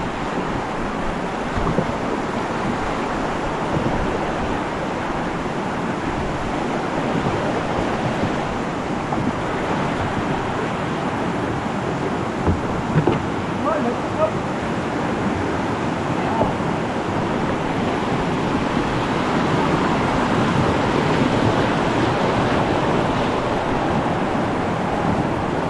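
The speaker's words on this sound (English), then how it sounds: "As our boatmen pull us up the rapids, we see the first of several smaller waterfalls" River rapids rushing through Pagsanjan Gorge as boatmen pull a boat upstream, a steady, loud, close wash of churning water with wind noise on the microphone, lasting throughout without pauses.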